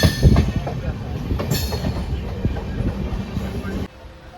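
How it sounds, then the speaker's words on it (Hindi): Passenger train running on the rails near Kurukshetra station, heard from on board as a close, steady rumble with faint clickety-clack that drops away abruptly at the end. "ये देखिए ट्रेन हमारी आ गई है।"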